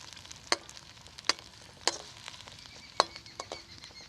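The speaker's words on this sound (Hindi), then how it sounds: "प्याज को हल्का सुनहरा करेंगे, ज़्यादा गोल्डन नहीं करेंगे" Finely chopped onions, three of them, frying in a karahi for white chicken karahi: a soft sizzle under a few sharp clinks of a stirring spoon against the pan, roughly evenly spaced, close and quiet.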